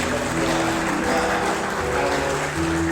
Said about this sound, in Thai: ขอที่ประชุมปรบมือนะครับปรบมือยาวๆนะครับ